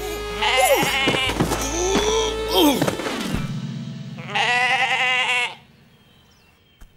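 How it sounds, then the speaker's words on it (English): Cartoon sheep bleating in a children's animated series, a loud wavering bleat followed by a second long quavering call, with a low sustained tone beneath and a quiet pause at the end. "We've got a sheep to rescue."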